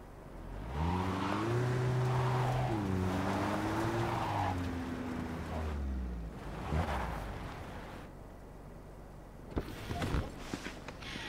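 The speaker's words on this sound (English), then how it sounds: "I'm going to spin it round the car park to show off its extraordinarily tight turning circle." A Makigai MaiMai city car spins round a car park, its engine droning and swelling as it turns, then fading, followed by a few sharp knocks and clatters near the end.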